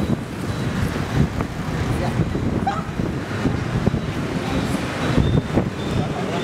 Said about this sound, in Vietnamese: Gió bay quá.